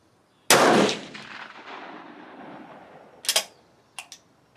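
A rifle fires GP-11 clone ammunition through a chronograph: a single sharp, loud shot with a ringing decay, followed by a few quieter mechanical clicks and clacks close by.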